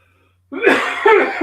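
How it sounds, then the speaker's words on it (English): A burst of harsh, rough coughing starts after a short silence and continues in a few close, loud heaves. "Happens every time I eat. Get to coughing."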